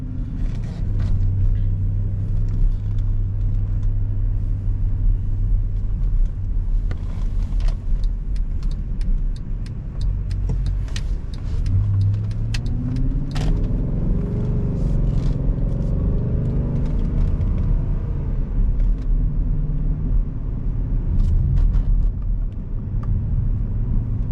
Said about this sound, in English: let's take the ML63 out on the road